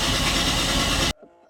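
A 31-year-old Nissan Skyline engine cranks during a compression test on cylinder 5, a loud, rhythmic starter churn lasting about a second before cutting off abruptly into near silence.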